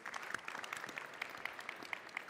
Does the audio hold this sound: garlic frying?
no